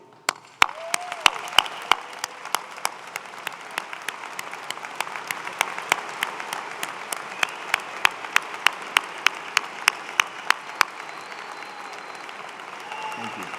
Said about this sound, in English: Join me in a standing ovation and a round of applause for them.